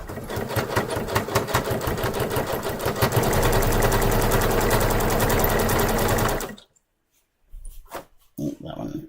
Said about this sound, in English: I have been sewing with my walking foot so much because I'm sewing diapers and layers of stretchy things